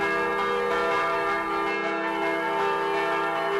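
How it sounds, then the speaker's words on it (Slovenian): Slovenian church bells ringing continuously in the traditional pritrkavanje style, with rich sustained tones and overlapping strikes, loud and steady, with no talking. "Pritrkavanje lahko iz cerkvenih zvonikov slišimo ob božiču, veliki noči, novem letu"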